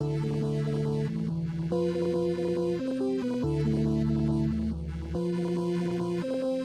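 A dry synth chord preset made for a Serum bank plays with no effects: sustained stacked chords shift in steady steps, bright and continuous, with no voice over them.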